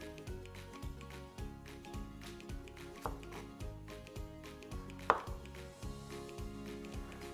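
Knife chopping courgettes into small squares on a board for a chorizo clafoutis, a steady run of soft repeated cuts with a couple of sharper knocks, close and fairly quiet under light background music.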